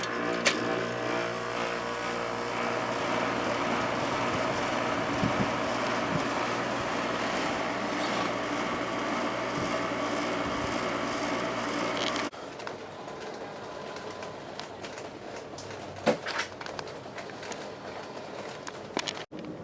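A window air conditioner runs with a steady, fairly loud hum that cuts off abruptly partway through, leaving a quieter room background with scattered faint knocks.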